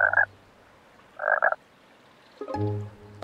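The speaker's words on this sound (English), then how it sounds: "Croak. Thanks, little green frog." A little green frog in a summer meadow gives two short, close croaks separated by a pause, then a longer, more tonal call.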